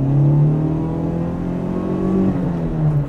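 A 1992 Toyota Corolla AE92 engine running on LPG revs steadily and loudly, a sustained droning hum with rising and falling pitch that stays close and continuous throughout, with no talking over it.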